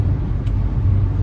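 A car's steady low road rumble from inside the moving vehicle, constant and fairly loud throughout a brief moment.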